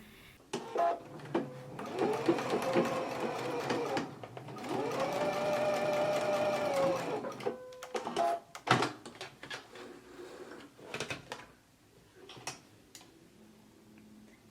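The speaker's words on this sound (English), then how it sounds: "So let's go ahead and stitch the corners of our pockets now." A sewing machine stitches the corners of skirt pockets in two sustained runs of rapid whirring, then gives way to softer ticks, clicks and handling noises, close and fairly quiet.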